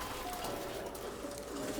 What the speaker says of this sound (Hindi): यहाँ पे कबूतर रहते हैं